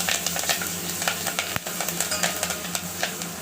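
Curry leaves sizzle in hot oil in a pan with garlic cloves for a mango and moong dal rasam, a steady close crackle with stirring scrapes and one sharp pop partway through.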